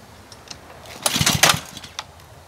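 A Honda GCV 190 engine on a pressure washer that won't start is pulled over: a short cluster of rough, scraping mechanical bursts rises for about half a second and fades, fairly close, with no steady running.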